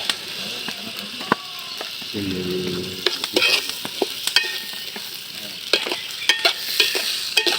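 Rice and lentils fried and stirred in a pan for khichuri, with a steady sizzling hiss and sharp scraping clicks of the spoon against the pan, plus a short low hum partway through.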